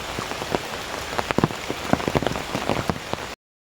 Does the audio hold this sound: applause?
no